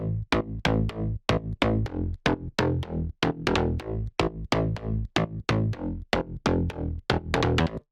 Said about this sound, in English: create this typical slap house or Brazilian bass line